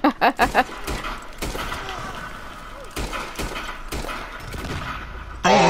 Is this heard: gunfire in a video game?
yes